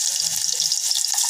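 Onions with carrots, curry leaves, cumin and mustard seeds hiss and sizzle steadily in hot oil for sambar, a close, constant bright crackle with no pauses.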